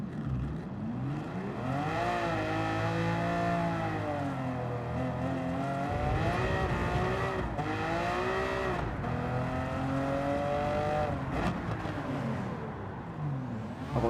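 A Lamborghini engine roars in the racing video game Gran Turismo 7, a loud, continuous howl that rises and falls in pitch as the car accelerates and shifts through gears, heard on its own.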